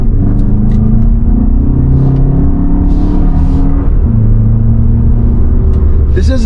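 A Toyota Grand Highlander Turbo pulls away from a stop on a smooth Hawaii hill road, its engine rumbling low and steady inside the cabin as it gains speed, with a voice talking over it.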